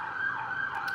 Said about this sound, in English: Sorry for the sirens. I live right next to a hospital.